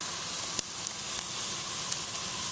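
Chicken burgers sizzle on an oiled grill turned up high, a steady, dense hiss with a few small crackles and pops, close and fairly loud and continuous, with no voices.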